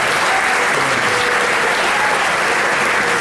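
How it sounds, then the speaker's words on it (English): Audience applause at a community healthcare recognition event, dense and loud sustained clapping from a crowd that stays even throughout, with no voices above it. "Big round of applause."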